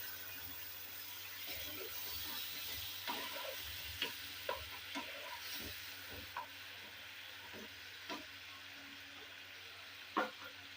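Capsicum and paneer sizzling in a pan after water is added: a soft, steady frying hiss with scattered spatula scrapes and clinks against the pan, faint and close.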